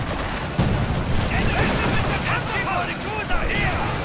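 Gunfire in the game Company of Heroes 2 crackles in dense, continuous bursts with a sharp report early on, while voices talk over the battle noise.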